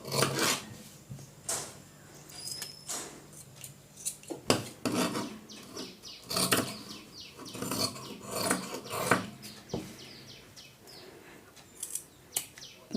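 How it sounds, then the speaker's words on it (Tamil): Scissors cutting blouse sleeve fabric at close range: a series of sharp snips and rasping blade strokes in irregular bursts across the whole stretch, with no talking. "நான் ஸ்லீவ் கட் பண்ண ஸ்டார்ட் பண்ணிடுறேன்"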